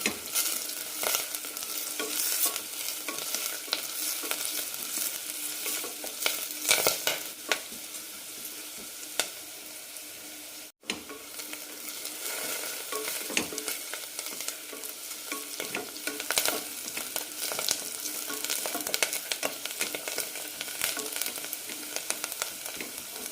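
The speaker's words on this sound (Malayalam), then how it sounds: "കൂടെ തന്നെ കുറച്ച് പുതിനയിലയും നന്നായി വഴറ്റാം" Curry leaves and mint leaves sautéing in a hot pan with onions for drumstick kurma, a continuous loud sizzle with scraping stir strokes throughout and a brief dip midway.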